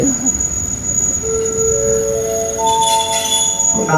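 Diesel locomotive GEA 4537 hauling train 234 pulls into a station, a loud rumbling rail run with several long tonal squeals and whines from the wheels or brakes building up over it.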